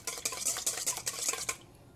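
Sugar being stirred into egg whites in a stand-mixer bowl for a dessert mousse, giving quick, busy scraping and clinking of a utensil against the bowl for about a second and a half before it stops.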